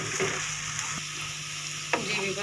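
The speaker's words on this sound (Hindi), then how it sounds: "लहसुन जो अदरक है वो भी हमने ऑयल के अंदर भून लिया इसको।" Garlic and ginger fry in oil for a fish karahi, giving a steady close sizzle with a few brief scraping stirs of a utensil against the pan.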